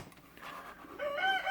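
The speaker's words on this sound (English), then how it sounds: "there's a rooster out there" A rooster crows outside somewhere distant, a faint drawn-out call rising at the end over a quiet room.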